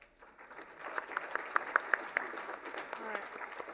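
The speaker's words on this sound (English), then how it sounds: "So one more round of applause" Applause from a conference audience at an Indonesia policy session, a steady patter of clapping with a few sharper claps standing out, moderately loud over a murmur of room noise.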